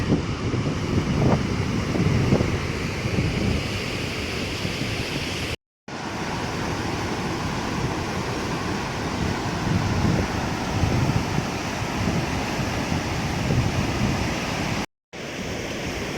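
The roaring Alaknanda river flows steadily in the mountains on the trek from Badrinath toward Satopanth, a loud continuous rushing wash with no talk, broken by two brief silent gaps.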